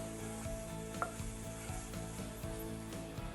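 Flat bean poriyal with grated coconut cooking in a pan, a soft, steady sizzle with faint rhythmic stirring scrapes and a single light knock, quiet and close, with no talking.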